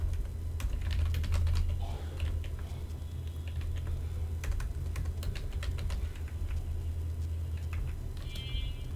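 Typing on a computer keyboard, a steady close patter of key clicks in irregular bursts over a low hum that runs through the whole stretch, with faint background speech.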